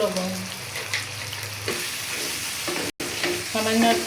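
Fried rice with tomato sauce and salt is stirred in a sizzling pan, with constant scraping and tossing over a loud, close fry, a brief dropout and faint musical tones behind.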